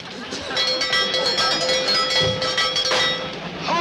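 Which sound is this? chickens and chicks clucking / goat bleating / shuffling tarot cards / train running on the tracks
train running on the tracks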